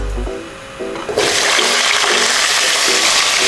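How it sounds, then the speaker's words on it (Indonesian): Shrimp dropped into hot frying oil, a quiet start and then a loud, steady sizzle that fills the rest of the clip with no talking. "Selanjutnya kita mau goreng udangnya."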